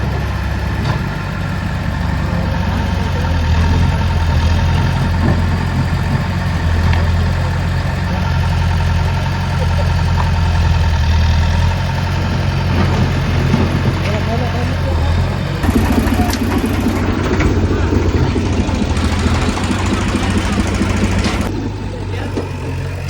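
A tractor engine idles steadily nearby with a constant low rumbling drone, while people talk over it throughout.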